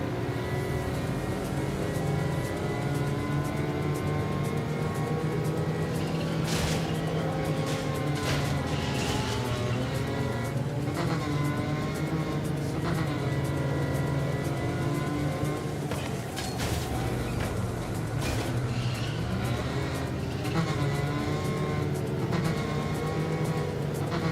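Car in the video game Nikke driving with its engine revving steadily throughout, a continuous loud motor drone with rising and falling pitch and a few sharp transient clicks over it.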